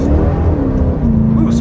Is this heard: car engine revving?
yes